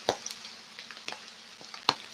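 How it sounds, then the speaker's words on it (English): Canned mushrooms frying in a pan, a quiet sizzle with a few sharp clicks and pops of stirring over about two seconds. "now that we've got our mushrooms frying off"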